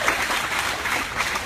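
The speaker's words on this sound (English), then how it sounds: "can we please give Joshua a round of applause" A short burst of audience applause at a fashion show, a dense, even patter of clapping that lasts only a moment.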